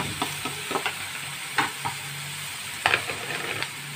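Garlic and onions frying with vermicelli or pasta in a pot for a lentil dish, giving a steady low sizzle broken by several clattering stirs of a spoon, close and alone with no talk.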